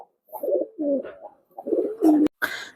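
Red Khulna high-flying pigeons coo softly nearby in short repeated phrases, low throaty calls separated by brief pauses, with a sharp click near the end.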